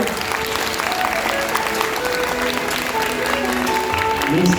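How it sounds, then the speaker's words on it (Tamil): An audience at a Singapore community event claps steadily for a Minister of State, with crowd murmur and faint voices under the continuous applause. "நல்ல ஒரு பலத்தை கைத்தட்ட அவங்க கொடுக்குறோம்."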